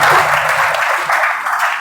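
Steady applause from an audience at a village general knowledge competition in India, a continuous wash of clapping that stays loud for the whole moment with no voices standing out.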